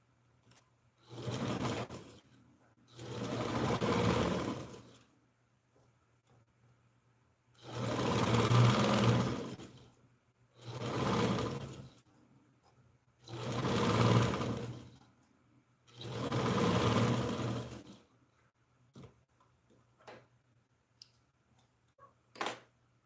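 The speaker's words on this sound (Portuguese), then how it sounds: "Aqui eu tô fazendo o pesponto da cava." A sewing machine topstitches the armhole of a lined blouse in six steady runs of even, rapid stitching separated by pauses, followed by a few faint clicks as the fabric is handled.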